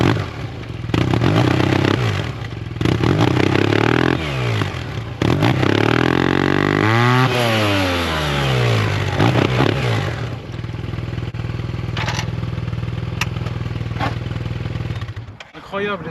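A Yamaha T-Max 560 scooter engine revs loudly and close, rising and falling in pitch through several sweeps with some mechanical clatter, and a voice talks over it at moments.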